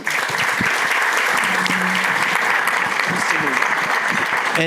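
Loud, sustained applause from a meeting audience for Congresswoman Robin Kelly, a steady dense wall of clapping filling the room without a break.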